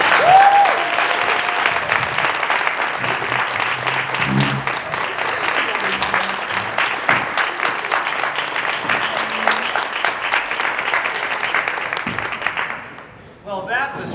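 An audience at a school committee meeting applauds steadily for about twelve seconds, a sustained wash of clapping that fades out at the end, with brief speech over it near the start and finish.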